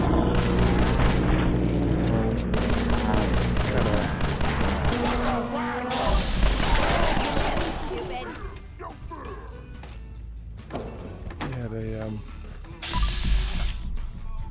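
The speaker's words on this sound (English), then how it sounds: "Missile launcher." Missile launcher firing in Fallout 4 VR amid loud, dense game combat: rapid booming blasts, crashes and gunfire bursts with music, fading briefly and surging again near the end.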